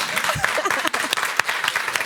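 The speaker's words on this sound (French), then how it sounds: "Applaudissez-la." Applause from a small audience at a live makeup session, a brief burst of scattered claps lasting about two seconds, mixed with some voices.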